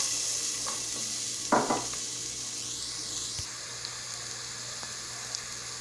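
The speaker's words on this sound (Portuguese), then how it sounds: "o alho está ali fritando" Garlic frying in soybean oil gives a steady close sizzle, broken by a brief stirring clatter of a utensil in the pan partway through.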